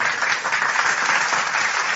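A seated audience claps steadily in a dense, even wash of applause that fills the whole moment at close range, with no voices over it.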